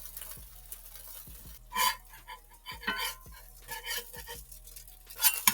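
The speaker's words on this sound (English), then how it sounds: "I'm going to let this fry up" Food frying in a hot pan for a carnivore or keto lunch, a soft steady sizzle broken by occasional clinks and scrapes of a utensil against the pan, fairly close and moderate in level.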